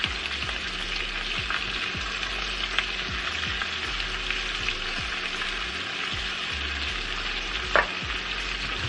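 Food sizzling in oil in a Dutch oven while being sautéed, with the seasoning just added, a loud continuous frying hiss broken by scraping stirs and one sharper clack near the end.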